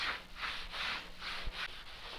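Rhythmic hand rubbing of wash product over car paint, about five even back-and-forth strokes, close and fairly quiet.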